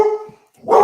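A dog gives two loud, close barks separated by a short pause.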